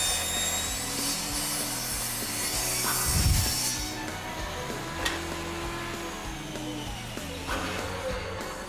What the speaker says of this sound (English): That's how you cut wood.